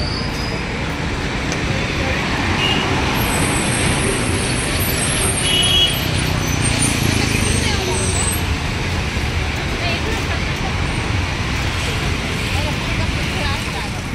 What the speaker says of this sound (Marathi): गाडीत कशाला जा, ट्रॅफिक असते।